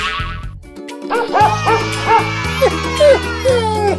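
Indoor dog with the zoomies barks and whimpers in short rising yelps and whines, several close calls over a steady musical background.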